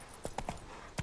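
Roach, the horse in The Witcher 3, clip-clops on a road, four distinct hoof strikes spaced unevenly over about a second, moderately close and fairly quiet.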